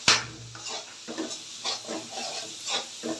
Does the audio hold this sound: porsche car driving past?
no